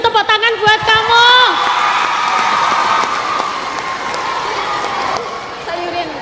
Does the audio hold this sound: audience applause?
yes